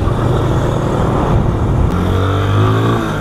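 Yamaha Fazer 250 motorcycle engine running close by, a steady loud drone with the pitch climbing as it revs in the second half, no talking over it.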